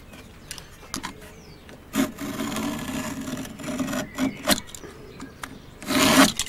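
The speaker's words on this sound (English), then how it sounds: "we're just going to scribe through the top fibres of the wood, right on that line" A knife scores along a marked line through the top fibres of a piece of wood, ahead of a jigsaw cut for a small boat, giving soft close scraping strokes in several short bursts with a stronger rasp near the end.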